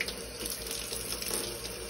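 Water pours steadily over a potted orchid, a continuous close splashing and trickling like a running tap that keeps an even level throughout, with no voices.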